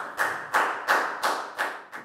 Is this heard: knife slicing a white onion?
no